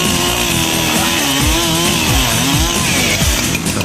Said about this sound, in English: after the chainsaw passes through it